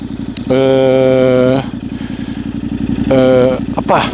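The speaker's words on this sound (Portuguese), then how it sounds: "Já tem um escape da Krapovic. Eu vi logo, também dá logo outra sonoridade." A Yamaha Tenere World Raid 2023 motorcycle with an Akrapovič exhaust idles with a deep, throaty exhaust burble, revving up twice in short blips before settling back to a lumpy idle.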